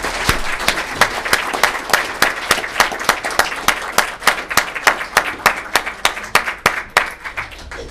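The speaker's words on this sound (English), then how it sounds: "Why don't we go ahead and just give them a nice, healthy round of applause as they exit." Clapping at a Sierra Madre civic event as a church choir exits, with sharp distinct claps from a smaller group sounding close and loud, settling into a fairly regular rhythm that thins toward the end.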